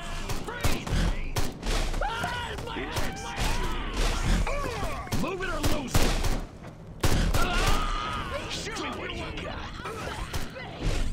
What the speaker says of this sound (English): they're not even shooting at the thing anymore.